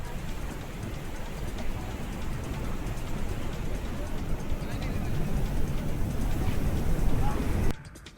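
Steady heavy rain falling during a May downpour, a dense continuous hiss of drops hitting surfaces, close and loud, cutting off abruptly near the end.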